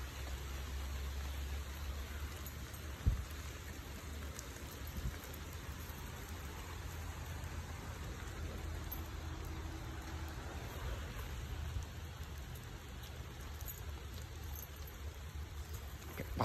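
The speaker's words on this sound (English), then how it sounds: "The rain is picking up again." Rain falls outdoors as a steady, faint, even hiss, with occasional soft drops and a low rumble beneath, holding unchanged for about sixteen seconds.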